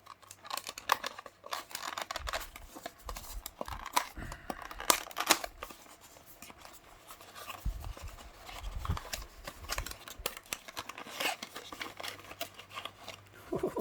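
Crinkling plastic and cardboard packaging being handled and opened around a Mini GT Honda Civic Type R Time Attack 2018 scale model car, with irregular close rustles, tears and taps throughout.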